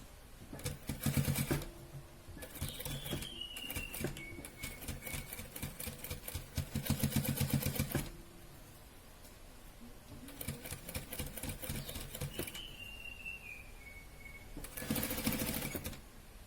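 Sewing machine stitching the seam of a baby frock, running in several long bursts of rapid, rhythmic needle clatter with short pauses between them, close and steady.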